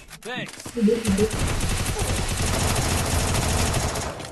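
Rapid bursts of video game gunfire crackle through a dense, busy mix, loud and continuous after a brief opening, with a voice talking over the shooting.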